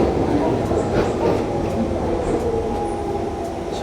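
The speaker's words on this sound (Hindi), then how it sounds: "ये रही हमारी ट्रेन" A London Underground metro train rumbles steadily nearby, with a continuous low roar and faint rail clatter, and soft voices underneath.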